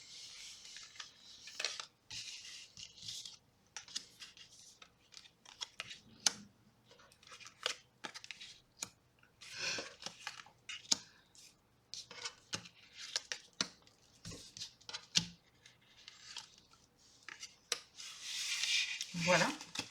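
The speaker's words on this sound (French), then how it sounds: "on va tirer les cartes" Tarot cards are drawn and laid out on a table during a reading, giving soft, close, intermittent shuffles, slides and light taps scattered over twenty seconds. The sounds are quiet and irregular, with a burst of rubbing near the end.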